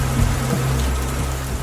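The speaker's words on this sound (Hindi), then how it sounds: "बारिश हो रही थी" Rain falls as a sound effect in a Hindi radio drama: a steady, dense hiss of drops with a low rumble beneath, continuous and even throughout, with no voices.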